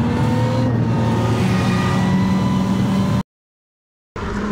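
A fully loaded goods truck pulls away from a stop on a trip from Kolkata toward Jharkhand, its engine a steady loud drone for about three seconds, then a sudden cut to silence before the rumble returns.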